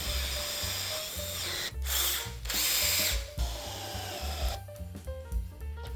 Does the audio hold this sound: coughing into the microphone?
no